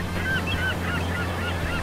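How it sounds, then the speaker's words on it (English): Geese or similar waterfowl honk several times in quick, overlapping calls against a steady background hum at a water park with a dock, seaweed and kelp, moderately loud and close. "See how there's birds up there?"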